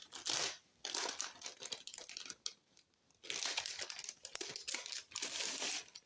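Plastic packaging of a cross-stitch kit crinkles and crumples as it is opened by hand, in two long bursts of close, rustling crackle separated by a brief lull, with no talking.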